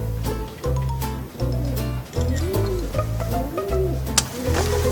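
Pigeons coo near a nest with chicks in steady, low rhythmic phrases, loud and close, with a few faint higher chirps mixed in.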